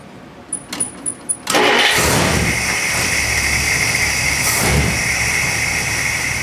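A few jingling key taps, then the original V8 engine of a 1959 Plymouth Sport Fury cranks and roars to life, settling into a loud, rumbling idle.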